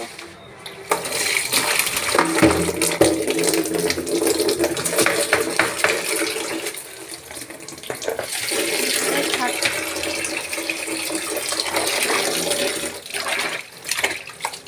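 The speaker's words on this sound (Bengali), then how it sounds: "আমি সুন্দর করে কেটে নিয়েছি মাছগুলা। তো আমি এগুলো এখন ধুয়ে নিব।" Cut fish rinsed under running tap water, a loud, close, continuous gush and splash with handling sounds, briefly easing midway before resuming.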